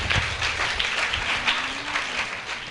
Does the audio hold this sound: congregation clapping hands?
yes